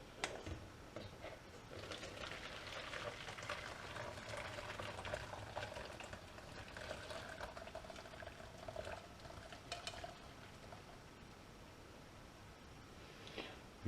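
Cooked potatoes are strained, their cooking liquid poured off and kept, a steady soft rushing and splashing of water that runs continuously and fairly quietly.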